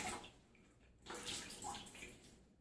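Water is squeezed out of a grout sponge over a bucket while grouting a shower wall, two close sloshing gushes with a quieter pause between and a fresh splash at the very end.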